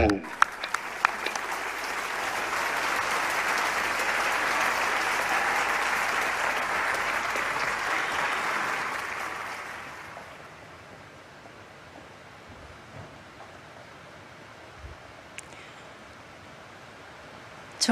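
Audience applause at a large memorial festival ceremony welcoming a speaker, a dense sustained roar of clapping for about ten seconds that then fades into quiet room ambience with faint scattered sounds.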